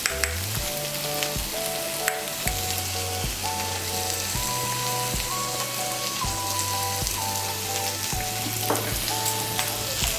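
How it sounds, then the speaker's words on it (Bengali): Chicken pieces sautéing with spices in a pan for a dhaba-style chicken bharta, giving a steady close frying sizzle throughout, with background music playing over it. "মশলার সঙ্গে চিকেনটাকে আরেকটু আমি ভালো করে কষিয়ে নেব"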